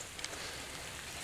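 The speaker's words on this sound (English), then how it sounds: "Now it's raining again." Rain falls steadily outside as a dense, even hiss with faint patter of drops, continuous and unbroken by speech.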